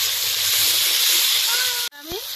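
Sliced green banana coated in turmeric fries in hot oil, a loud steady sizzle that cuts off sharply before the hiss resumes with a faint stirring clink and a voice speaking.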